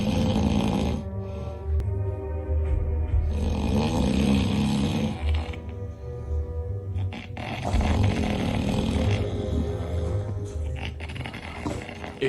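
A person snoring loudly in a steady rhythm of deep, rasping breaths, close and continuous with no talking.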